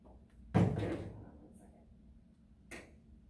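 An oven door shuts with a solid thump while cookies bake, followed by a lighter knock a couple of seconds later, heard close in a quiet kitchen.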